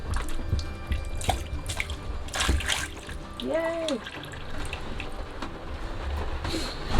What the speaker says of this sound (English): That noise is the water coming out of the faucet.